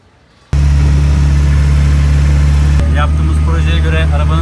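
A van engine suddenly starts up after near silence, then runs loud and steady at a close, even idle with a constant hum, while a voice speaks over it in the final seconds.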